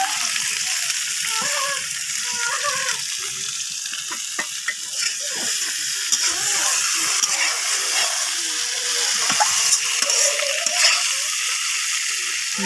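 Sour tomato curry sizzles and fries in a pan, a continuous hissing crackle with stirring scrapes and bubbling spits scattered throughout.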